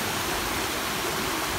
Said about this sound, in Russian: Большой такой водопадик